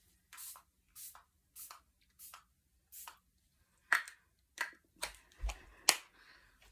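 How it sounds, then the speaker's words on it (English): A Bubble Bounce Back Balancing Mist facial spray bottle is pumped in short, crisp hissing bursts, about ten sprays in a steady rhythm, close and clear with no talking. "Now I'm going to use my Bubble Bounce Back Balancing Mist."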